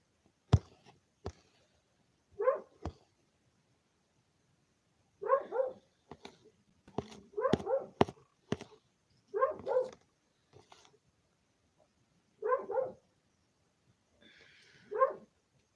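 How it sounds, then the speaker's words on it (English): Several dogs bark outdoors in the dark, sharp separate barks and short clustered volleys spread across the stretch with quiet gaps between, moderately distant and alone without talk. "Who knows what they're barking at?"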